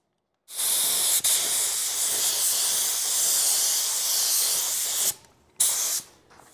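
An automotive spray gun lays down a high metallic paint finish on a car, blending the color into the door and fender: a loud, steady airy hiss for several seconds, a brief break, then a short final burst.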